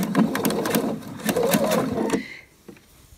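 A sewing machine stitches in the groove of firm bias tape along the edge of a soft-fabric long vest, running in a steady buzzing burst for about two seconds before stopping, leaving near silence with a faint click.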